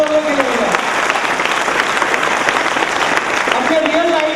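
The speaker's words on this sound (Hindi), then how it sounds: "उनके लिए ताली बजाओ।" A large audience claps steadily throughout at a motivational event, a dense continuous roar of applause with a voice briefly audible at the start and end.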